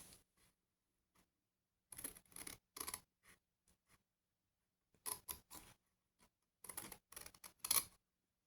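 Scissors snip through a paper fold in short bursts of crisp cutting and rustling, separated by quiet pauses, while a scrapbooking gift box is made from paper blocks.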